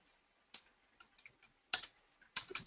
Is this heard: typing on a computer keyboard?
yes